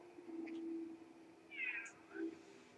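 A cat meows a few times in the PlayStation 2 game Bratz Girlz Really Rock, short mid-pitched calls sitting over a steady game background hum.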